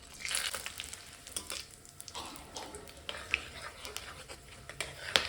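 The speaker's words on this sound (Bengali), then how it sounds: "ফোড়নে দিচ্ছি তেজপাতা শুকনো লঙ্কা আর গরম মশলা গোটা গরম মশলা" Bay leaves, dried chillies and whole garam masala sizzle in hot mustard oil, a close, steady frying crackle with sharp pops and stirring scrapes throughout.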